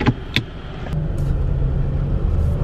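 A new Mercedes ute on a test drive gives a steady low road and engine rumble heard from inside the cab, with a few faint clicks near the start.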